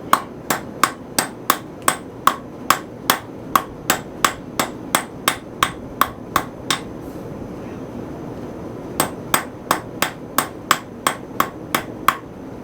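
A hammer strikes metal in a fast, even rhythm of sharp ringing blows, stops for a couple of seconds, then resumes the same steady pattern.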